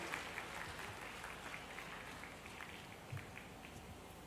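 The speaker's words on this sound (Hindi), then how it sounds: "जोरदार तालियों से आइए, माननीय मुख्यमंत्री जी का स्वागत करें, अभिनंदन करें जोरदार तालियों से।" A large crowd at a Tantya Bhil Balidan Diwas ceremony at Nehru Stadium in Indore applauds to welcome the Chief Minister, a steady, fairly distant wash of clapping that holds evenly throughout.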